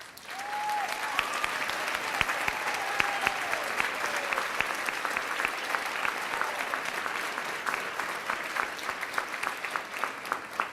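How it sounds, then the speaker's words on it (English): An audience applauds honored graduating students at a class of 2006 graduation celebration, sustained dense clapping filling the hall with a brief voice early on. "will the Dreamers we are here to honor tonight please stand so we can applaud you"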